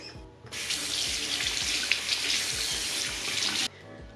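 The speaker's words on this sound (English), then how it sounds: "I take the brush and I rinse it off with some lukewarm water" Lukewarm tap water runs steadily into a sink as a makeup brush is rinsed, a continuous close hiss that starts abruptly and cuts off after about three seconds, with faint handling knocks underneath.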